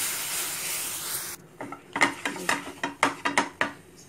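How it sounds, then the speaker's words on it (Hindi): Milk being stirred into roasted flour in a pan for a white sauce for pasta: a brief hiss, then about eight rhythmic scraping strokes, close and moderately loud, with no talking. "दूध हमें बिल्कुल थोड़ा थोड़ा इसमें डालना है और इसे लगातार चलाते रहेंगे।"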